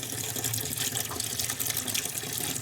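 Water running steadily from a faucet on a household well-pump system with a waterlogged pressure tank, a constant broadband rush that stays even and close throughout.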